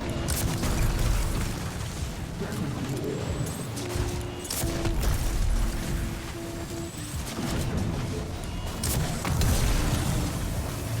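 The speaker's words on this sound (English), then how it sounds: "here is a clip of us killing Carl with just a regular rocket launcher." Rocket launcher blasts go off in the Destiny video game, a dense run of booming explosions and crackling impacts under a continuous loud game soundscape.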